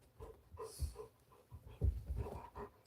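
Dogs pant close by indoors, with quick, soft, rhythmic breaths and an occasional faint whimpering note, no talking over them.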